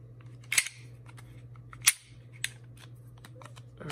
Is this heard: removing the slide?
yes